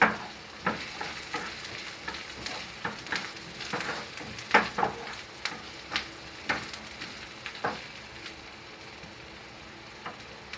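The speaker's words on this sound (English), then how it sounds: "Now I'm adding the onion. Saute for a while." Chopped onion sautéing in a pan for restaurant-style chilli chicken, a steady sizzle broken by repeated scraping stirs of a spatula at an even, unhurried rhythm, close and clear with no talk.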